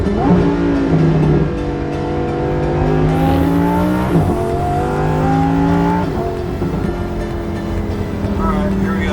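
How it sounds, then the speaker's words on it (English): A Lamborghini, heard from the driver's seat, pulls away with its engine note climbing and falling through several revs, close and loud throughout. "Do a little first-person POV driving the Lambo."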